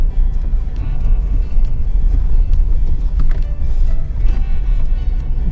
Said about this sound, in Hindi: लो जी अपनी गाड़ी तो चढ़ गई।